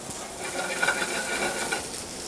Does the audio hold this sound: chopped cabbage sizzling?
yes